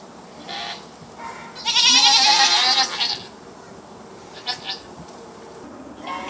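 A goat on a dairy farm lets out one loud, strained bleat lasting about a second, with softer bleats before and after and a few faint animal sounds in the background.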